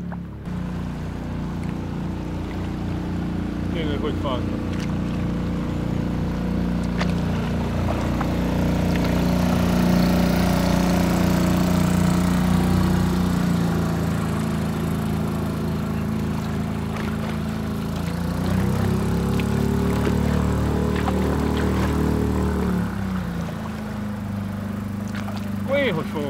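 A motorboat engine drones steadily on Lake Tisza as it passes close to paddlers on stand-up paddleboards, a loud low hum swelling and shifting over about twenty-five seconds while people talk nearby.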